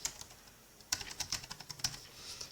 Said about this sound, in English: So we can type Facebook